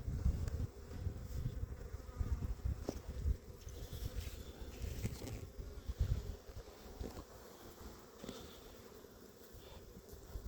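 Honeybees buzz in a dense, continuous drone from an opened hive during a February inspection after a little smoke, a close, steady hum with small rustles and no talk.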